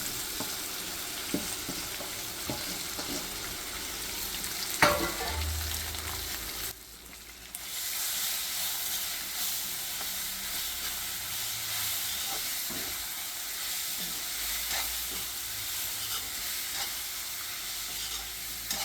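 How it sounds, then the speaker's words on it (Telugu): Grated raw mango fries and is stirred in a pan of tempering for mango pulihora, with a steady sizzle and hiss broken by occasional spatula scrapes and clinks, close and alone. "మామిడికాయ తురుము ఒక నిమిషం పాటు వేగనివ్వాలి"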